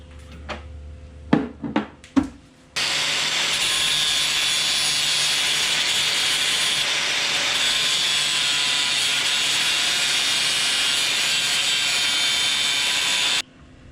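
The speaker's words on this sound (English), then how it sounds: "all I got to do is trim down this bracket a little bit" A metal brake bracket on a Razor go-kart is trimmed down with a steady, loud cutting whine lasting about ten seconds, preceded by a few sharp knocks and brief handling clatter, then ending abruptly.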